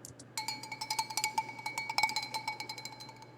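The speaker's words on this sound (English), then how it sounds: "The sound of the can being kicked rang out in the darkness." In the Ever 17 video game, an empty metal can is kicked and clatters off with a quick, tinny series of rattling clinks for a few seconds, fairly faint with no voices.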